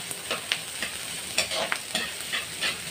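Onion and tomato sauté in a pan for a talakitok fish soup, giving a steady close sizzle broken by frequent scraping stirs and light clinks throughout.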